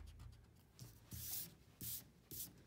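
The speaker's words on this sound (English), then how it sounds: "go ahead and erase that circle line" A pencil eraser scrubbing out a drawn circle line on paper, several short, soft rubbing bursts with brief pauses between, faint and close, no voices.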